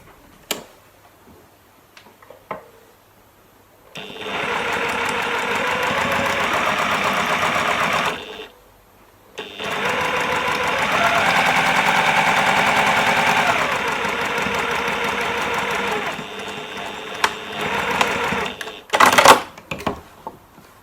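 A sewing machine stitches a wonky log cabin quilt block in two long, steady whirring runs with a rapid needle chatter, separated by a short pause, then brief clicks and handling noises.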